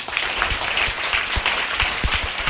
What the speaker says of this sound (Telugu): మనం ఒక్కసారి గట్టిగా చప్పట్లు కొట్టాలి.